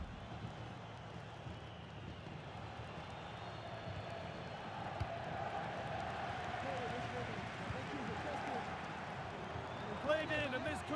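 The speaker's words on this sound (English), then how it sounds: "You can sense how annoyed the crowd are" Football crowd in the EA FC video game, a steady low roar of restless, annoyed fans filling the background, with a slightly louder swell near the end.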